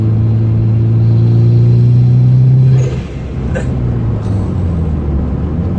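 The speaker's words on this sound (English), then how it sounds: "Sounds more like a race car now, doesn't it?" A Subaru WRX engine drones loudly at high revs, then drops off and settles into a lower rumbling idle with a few faint clicks.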